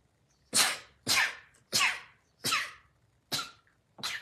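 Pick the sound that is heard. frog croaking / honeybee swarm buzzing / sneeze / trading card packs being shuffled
sneeze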